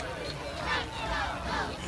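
High school football crowd at a 1996 Dondero vs Kimball game chanting "Let's Go Oaks", a steady roar of many voices rising and falling in rhythmic swells.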